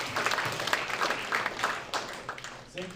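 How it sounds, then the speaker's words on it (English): Audience at a San Francisco tech week demo night breaking into applause, a dense patter of clapping that thins toward the end, moderately loud at a middling distance. "round of applause."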